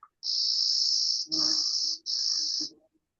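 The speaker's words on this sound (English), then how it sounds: "you hear that bee buzz, buzz. Um, that's the clay colored sparrow" Three long, insect-like buzzing calls of a clay-colored sparrow, steady and high, separated by brief gaps, with faint softer sounds underneath.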